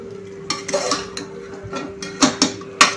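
Chicken lollipops are stirred with cornflour water in a pan over high flame: a spatula clatters and scrapes in irregular bursts against the metal over a steady background hum.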